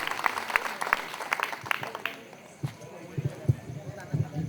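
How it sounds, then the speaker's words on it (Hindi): An audience at a jagran claps in a scattered burst that fades out, followed by quieter murmuring and a few thumps. "भैया थोड़ी तालियां तो जरूर बजाओ।"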